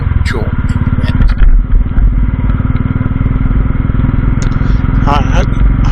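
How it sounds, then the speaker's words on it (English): A Royal Enfield 350 Classic with a Red Rooster performance exhaust, K&N filter and tuned carb, thumping steadily in a low, rhythmic idle or cruise on a wet rainy ride, with occasional clatter and scraping over the top. "It's some Red Rooster exhaust."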